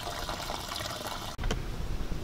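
Diesel fuel draining out of a Ford tractor tank, a steady close splashing gush that briefly cuts out and then resumes, with no talk.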